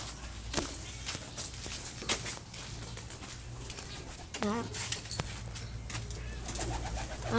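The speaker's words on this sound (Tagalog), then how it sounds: "Ito po ang kalapating niya maganda." Pigeons, including a blue bar, coo intermittently close by amid rustling and light footsteps, with occasional wing sounds and people talking at times.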